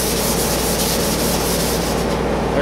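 Steady close sanding with a 180-grit paper on a sanding block, a continuous dense rubbing hiss with faint regular back-and-forth strokes, no talk.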